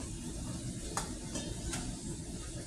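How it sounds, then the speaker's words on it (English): Pulled pork comes out of a crock pot on soft tongs, giving a steady soft wet rustle with two brief sharper clinks partway through, close and moderately quiet, with no talking. "I'm going to pull this pork out of the crock pot."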